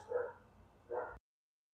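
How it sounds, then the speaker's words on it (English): A pet dog gives two muffled barks indoors, somewhat distant and faint, before the sound cuts to silence. "I gotta get my dog to stop barking."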